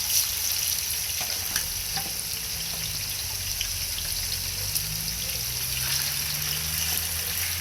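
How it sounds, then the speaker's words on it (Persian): Chicken pieces with the skin on fry in hot oil on a balcony, a loud steady sizzle and crackle with scattered pops throughout and no voices. "در ضمن با پوست سرخ کنیم که خیلی خوشمزه تر میشه."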